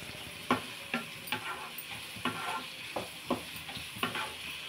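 Capsicum frying in a pan, soft steady sizzle with regular stirring scrapes recurring about every half second, close but fairly quiet, no talking.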